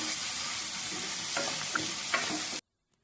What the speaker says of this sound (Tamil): வெங்காயம் நல்லா வதங்கட்டும் வெங்காயத்தை நல்லா வதக்கி விட்டுக்கலாம்